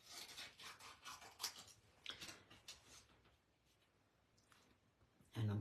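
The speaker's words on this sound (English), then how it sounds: "And then I'll grab my snips." Snips cutting through thin material, a series of sharp crisp snapping and scraping cuts in the first three seconds, then quieter rustling with a louder clunk at the end.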